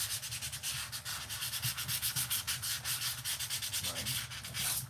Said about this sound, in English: Should have sanded these down before we stuck them on.